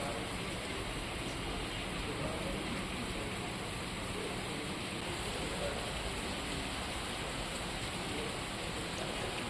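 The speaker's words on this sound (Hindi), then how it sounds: "अब मानसून सक्रिय है और मानसून की वजह से ठंडी हवाओं के साथ में बारिश का दौर शुरू हो चुका है" Monsoon rain falls steadily in Alwar, Rajasthan, a continuous broadband hiss of downpour at even loudness across the whole stretch, with no voices.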